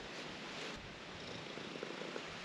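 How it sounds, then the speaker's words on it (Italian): A large cat purrs close up in a steady, low rumbling loop of soft breaths, quiet but continuous throughout with no voices. "Senti le fusa."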